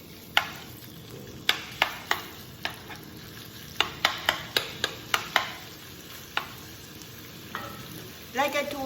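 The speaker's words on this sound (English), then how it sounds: "let's fry the pork" Pork fries in oil in a wok for jjajangmyeon, a steady sizzle broken by repeated sharp clacks and scrapes of a utensil stirring, with a louder clatter near the end.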